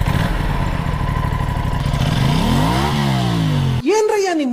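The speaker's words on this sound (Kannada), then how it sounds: "ಈ ಗಾಡಿ ಆನ್ ಮಾಡಿದ ತಕ್ಷಣ ಡುಕಾಟಿ ತರ ಸೌಂಡ್ ಆಗುತ್ತೆ." An Aprilia motorcycle engine fires up with a Ducati-like V-twin character, a loud close rumble with rising and falling revs before a sharp blip at the end.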